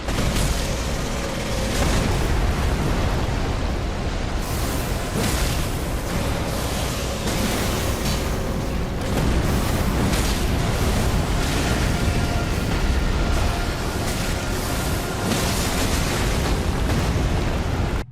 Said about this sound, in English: the headphone blasting booms of the god-devouring serpent